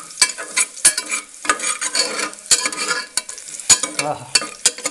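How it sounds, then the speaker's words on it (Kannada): Ginger garlic paste sautéing in a pan until brown, with repeated scraping stirs over a light sizzle, loud and close in irregular bursts. "ಇದು ಸ್ವಲ್ಪ ಬ್ರೌನ್ ಆಗೋ ಮಟ್ಟ ಸೌತೆ ಮಾಡ್ಕೊರಿ."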